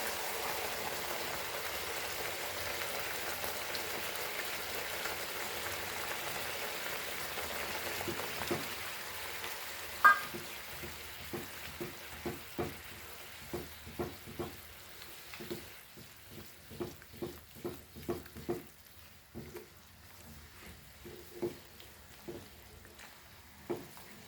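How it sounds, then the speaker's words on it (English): Green masala frying in a pan for Goan beef curry: a soft, steady sizzle with scattered light taps and scrapes of stirring that grow more frequent toward the end, with no talking. "fry this masala nicely"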